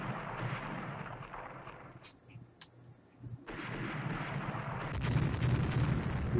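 Naval gunfire in Rule the Waves as an armored cruiser with 10-inch guns trades fire with 12-inch guns: a dense rolling roar of booming shots and rumbling blasts that dips briefly, then surges back louder and steadier, with no talk.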